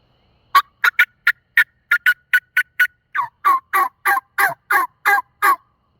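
A hunter imitates a loud hen turkey on a call. A fast run of sharp, evenly spaced yelps is followed by a slower series of longer, raspier yelps, close and alone with no talk.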